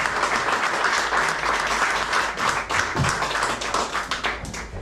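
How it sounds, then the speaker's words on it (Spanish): An audience at a school cultural week event breaks into loud, dense applause that fills the whole stretch evenly, many hands clapping together without a pause. "El aplauso es para vosotros"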